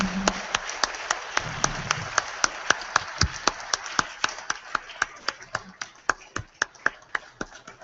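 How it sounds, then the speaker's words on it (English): Scattered, uneven clapping from a convention audience, individual claps sharp and distinct rather than a dense roar, with faint talk underneath at the start. "give a big round of applause for Tom Fernlin"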